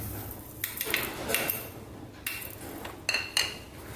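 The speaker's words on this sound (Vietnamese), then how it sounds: "Mình trộn gia vị sẵn mình khuấy đều ha" A metal spoon clinks and scrapes against a bowl while stirring a seasoning mixture of mushroom seasoning, soy sauce, MSG and sugar, in several short close taps spaced irregularly with quiet gaps between.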